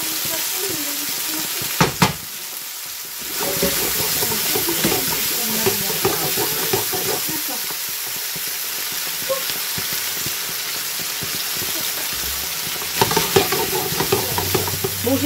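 Coconut curry balls sizzle and crackle as they fry in a pan, a steady hiss running throughout with brief stirring clatter and scraping; a short gap of near quiet breaks the frying early on.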